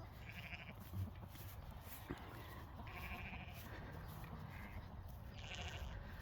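Old ewes, some with poor teeth, bleat in a farm setting, giving a few short calls scattered over steady background noise, fairly distant and faint.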